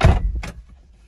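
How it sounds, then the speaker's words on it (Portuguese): The trunk lid of a Hyundai Azera car slams shut with a single loud, close thud, then a brief settling clunk, fading into quiet. "Fechar a porta-mala."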